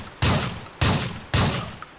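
Three loud, evenly spaced gunshots ring out from a shotgun in Grand Theft Auto IV, each a sharp blast with a short decaying tail, alone without speech.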